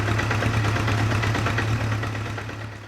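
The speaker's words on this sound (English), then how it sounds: "Using the same single-cylinder air-cooled Suzuki GN-based engine that they use in all the Mashes" A Mash motorcycle's single-cylinder air-cooled Suzuki GN-based engine runs with a steady, throbbing low hum, fairly loud and close, fading slightly toward the end with no talking.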